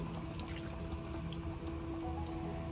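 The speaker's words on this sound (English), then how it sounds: "the last thing to do is add in your coconut milk" Coconut milk pours steadily into a tofu curry, a close, continuous liquid stream with soft dripping and splashing throughout, with no voices.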